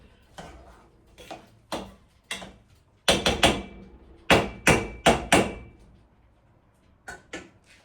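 Spoon stirring onion flower sundal in a pan, a string of sharp scraping taps in irregular bursts, loud and close, with short pauses between strokes and no talk.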